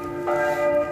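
A single church bell strike in Marienplatz, Munich, rings with a sustained metallic tone over the busy hum of the central square.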